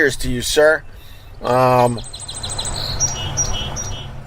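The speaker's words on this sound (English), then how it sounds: "Get to hear the birds in the background" Bright chirps and short tweets from birds outdoors at an ocean shore at sunrise, fairly clear but in the background. A voice speaks over the first part.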